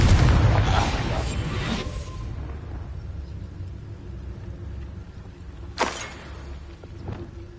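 Confringo blasting spell explosion in the video game Hogwarts Legacy, a loud booming blast at the start decaying into rumble, followed by a sharper pop and smaller bursts later.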